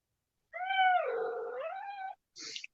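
A cat lets out one long, drawn-out meow that rises and falls in pitch, close and clear against silence, followed by a brief softer hiss-like sound.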